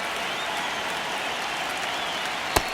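Steady, dense stadium crowd roar from the MLB The Show 26 baseball video game, a constant wash of cheering with a single sharp clap or crack near the end.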